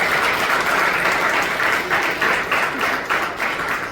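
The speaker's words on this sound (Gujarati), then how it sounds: "તાળીઓના ગડગડથી વધાવી દઈએ." An audience at a school poetry gathering applauds, a dense, steady roar of many hands clapping that holds loud and close throughout with slight swells toward the end.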